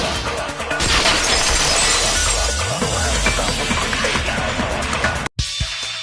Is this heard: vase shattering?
yes